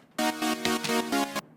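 A bright synth chord made in FL Studio for a vocoder pulses in five short rhythmic stabs, rich and buzzy, playing alone with nothing behind it.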